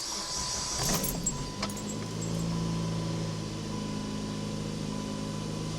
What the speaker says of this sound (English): So I'm gonna start the car here.